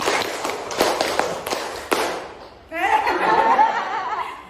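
Four quick claps followed by two more from a seated audience, sharp and fairly close, then crowd chatter and laughter rise at the end.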